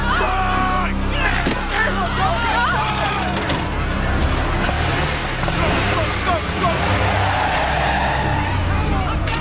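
A car speeds off with tires screeching and skidding while its engine roars steadily throughout, loud and close, with agitated voices underneath.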